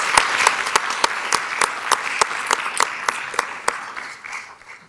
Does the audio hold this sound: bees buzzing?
no